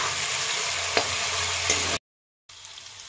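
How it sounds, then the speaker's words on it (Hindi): Mustard and garlic paste fries in hot oil in a traditional kitchen, giving a steady close sizzle with a couple of faint stirring clicks before a brief drop to silence and a quieter return. "इसको हम 1 मिनट तक भून लेंगे।"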